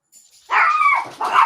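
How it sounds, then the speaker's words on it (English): Dogs bark at a fox, a short burst of yapping after a faint start, then another bark close by. "So, you guys can hear the dogs. That's because the fox went nuts."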